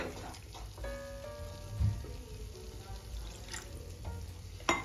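A little water goes into a pan of frying paneer masala spices. A quiet sizzle and splashing follow, with a couple of sharper clinks, faint and close, with no speech.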